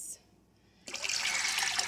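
Water pours into a measuring cup for a slow-cooker pinto bean recipe. After a short quiet gap, a steady splashing fill starts and keeps going at close range.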